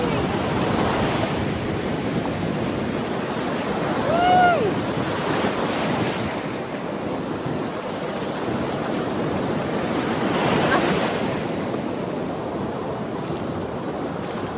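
Steady roar of sea waves washing onto the shore at Magtabon beach, Puerto Princesa, with gusting wind noise on the microphone and a faint bird call partway through.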